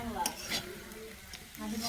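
Potato bhaji frying in a pan, with a soft sizzle under intermittent stirring and utensil clinks, close and fairly quiet over a short stretch.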